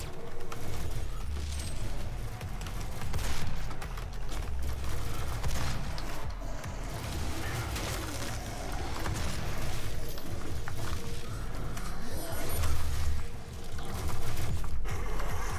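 Shotgun blasts in the first-person shooter DOOM (2016): repeated loud bursts of gunfire layered over a dense, continuous bed of combat effects and music, with no talking.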